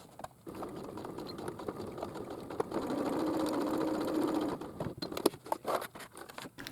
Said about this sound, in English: So now I can stitch that up and see how the corner comes out